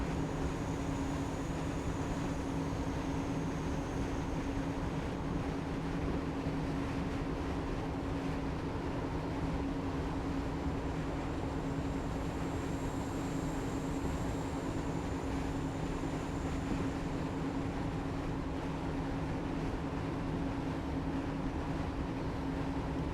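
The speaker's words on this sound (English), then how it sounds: "Another train." A train passing in Train Simulator Classic on the Plymouth to Penzance line, a steady low rumble and hum held throughout at moderate level with no talk over it.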